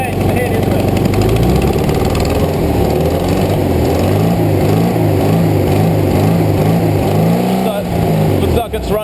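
A VW Bus engine running rich, with the choke meant to be on, idles loudly and steadily close by, its throbbing drone continuous throughout while voices talk over it.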